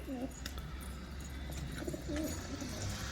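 Turkish and Arabic breed pigeons give soft, repeated cooing calls at moderate distance, a few rolling coos spaced over steady outdoor background noise.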